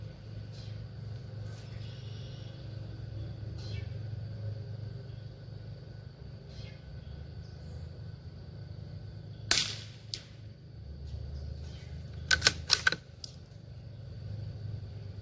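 A Savage MK II FV-SR rifle fires CCI standard 40-grain round-nose subsonic rounds outdoors: one sharp crack near the middle, then a tight cluster of several quick shots a few seconds later, over a faint low rumble.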